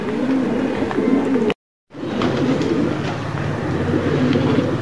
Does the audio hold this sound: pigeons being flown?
yes